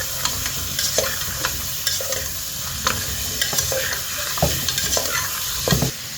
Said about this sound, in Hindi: अब जाएगी इसमें देसी मुर्गी, इसको देसी घी में हम थोड़ा सा फ्राई करेंगे।